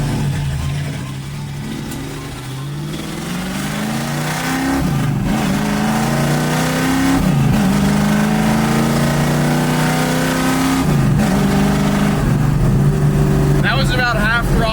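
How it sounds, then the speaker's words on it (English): A 1965 Ford Mustang engine, carbureted with tuned jets, revs at about half throttle, rising and falling in several loud, close sweeps over a steady idle rumble, with someone talking briefly. "That Tom's Reverb tune-up sounds pretty good to me"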